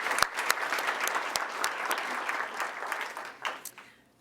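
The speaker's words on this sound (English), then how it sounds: "So let's give a round of applause for Ernest." A school audience applauds at a student awards ceremony. The clapping is moderate and continuous, a few sharp claps stand out near the listener, and it tapers off at the end.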